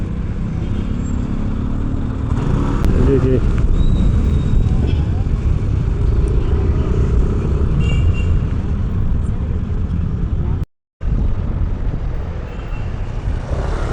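Steady, loud rumble of heavy road traffic on a rainy street in Barangay Poblacion, with engines droning continuously while a person talks over it.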